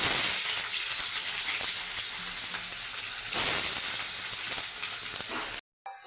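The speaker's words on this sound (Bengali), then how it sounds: "পেঁয়াজ কুচি দেবো" Chopped onions fry in hot oil in a kadai for a ridge gourd and fish roe curry, giving a loud, close, continuous sizzle that briefly cuts out near the end.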